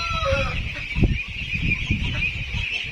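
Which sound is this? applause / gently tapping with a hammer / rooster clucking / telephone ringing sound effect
rooster clucking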